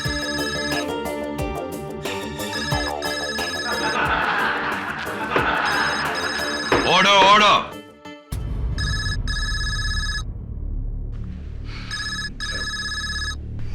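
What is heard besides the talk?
mobile phone ringtone ringing in a courtroom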